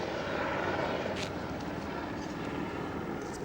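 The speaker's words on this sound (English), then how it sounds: "That helicopter's with the FBI." An FBI helicopter over New York roars steadily overhead, rotor and engine forming a dense continuous drone with no voices.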